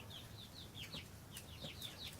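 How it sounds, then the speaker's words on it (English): Chickens clucking in short repeated calls as they peck at a simple poultry waterer fitted with nipple drinkers that use small ball valves, the calls close and steady over a low background hum. "chickens peck here"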